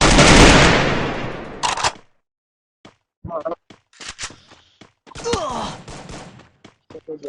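Rapid gunfire bursts in a shooting video game, a dense loud volley up front followed by scattered shorter shots and thuds, with a voice talking between them.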